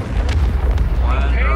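An explosion in Helldivers 2 booms and rumbles heavily, with crackling debris over a low roar, close and loud throughout.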